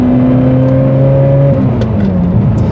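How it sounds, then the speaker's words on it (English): A Ferrari 355 with a tubby exhaust revs hard, its engine note holding high and then dropping away, with sharp pops and bangs crackling from the exhaust as the revs fall; loud, close and with no talk. "Pops and bangs from the exhaust."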